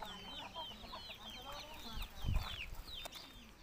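Bhimavaram breed chickens and five-month-old young roosters cluck and chirp repeatedly at close range, a steady busy chatter with a brief thump partway through.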